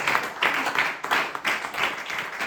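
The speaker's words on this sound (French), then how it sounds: "applaudis encore très fort pour la gloire de Dieu" A congregation applauds loudly during a church sermon, a dense, steady wash of many hands clapping in uneven surges with no voices above it.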